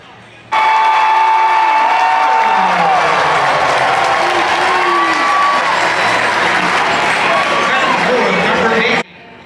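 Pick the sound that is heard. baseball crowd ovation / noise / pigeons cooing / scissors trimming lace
baseball crowd ovation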